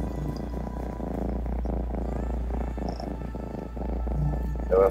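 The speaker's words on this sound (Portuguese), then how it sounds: "É o ronronado gatinho alegria." A cat purrs steadily and close by, a continuous low rumbling vibration with soft rhythmic pulses from breathing, unbroken for the whole stretch with no voices over it.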